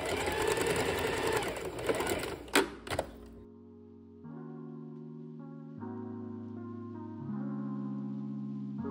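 A sewing machine runs a fast stitching burst while closing elastic on a shirred dress bodice, then stops; the rest is a quiet room with faint tones.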